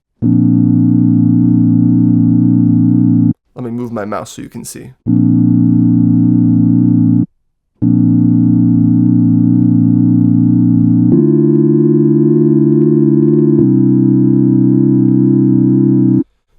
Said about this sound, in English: this LFO2 now controls this pitch oscillation that's going on.